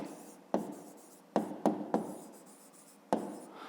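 Pen or pencil writing by hand on paper while working a fifth-grade maths exercise, with several short scratchy strokes in an irregular rhythm, close and fairly quiet.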